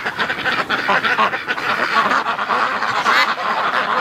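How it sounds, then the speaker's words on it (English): A big goose among wintering ducks and geese honks and cackles loudly and close, with repeated overlapping calls filling the whole stretch. "He's a freaking big goose, though."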